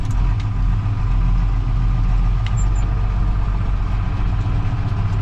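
John Deere 6510 tractor engine ticking over at low revs, a steady deep idling throb, close and continuous with no talk.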